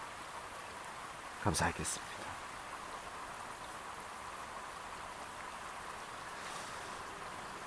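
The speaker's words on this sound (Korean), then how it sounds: "비가 와서 수면이 일렁거려서" Rain falls steadily on the water of a fishing pond, a constant soft hiss throughout, with a brief pair of louder knocks early on and someone speaking briefly.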